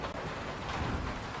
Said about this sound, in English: Is it raining outside? Looks like hail.